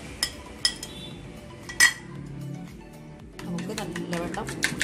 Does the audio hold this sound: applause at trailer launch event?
no